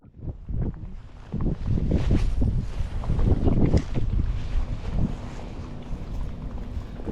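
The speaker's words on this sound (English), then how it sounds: "Wind's starting to pick up pretty good" Gusty wind buffets the microphone beside a fishing pond, a loud rumbling roar that swells and fades in waves before settling into a steadier blustery hiss.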